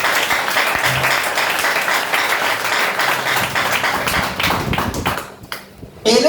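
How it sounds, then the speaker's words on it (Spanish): A church congregation bursts into loud, dense applause, many hands clapping steadily close by before it thins out and fades near the end. "Denle un aplauso al Señor."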